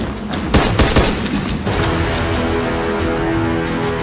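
Gunfire in a video game: a dense volley of sharp shots in the first couple of seconds, followed by a loud sustained rumbling wash of noise.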